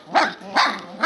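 Three-and-a-half-week-old Goldendoodle puppies giving three short, high yips in a quick row, close and clear with no talking over them.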